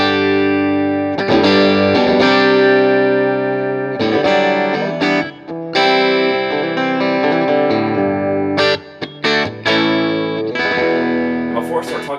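Electric guitar played through a Vox AC30 tube amp with a warm, slightly overdriven tone, strummed chords and single notes ringing with some reverb, loud and close.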